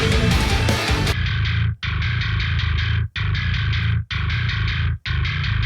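A heavily distorted bass guitar riff, run through the Scream 4 distortion unit in Reason, plays loud and close in repeated chugging phrases separated by brief abrupt stops, with no voices.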